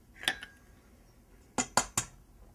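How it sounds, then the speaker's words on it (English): An egg cracked on a bowl for Funfetti cookie dough: a faint pair of sharp clinking taps, a pause, then a quick trio of cracks against the bowl in an otherwise quiet kitchen. "my mom is just going to crack an egg"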